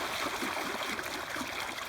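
A gold pan is shaken hard under river water while sluicing off mud, giving a dense continuous rushing, sloshing wash of water that stays loud and close without pause.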